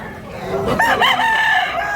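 A rooster crows once, loud and close, at a market in Tabunok, Cebu, its call rising and holding steady over a low background murmur.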